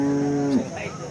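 A cow moos once at a rural cattle market in Sangola, one long, loud, close call that swells and then drops off, with a faint murmur of market voices behind it.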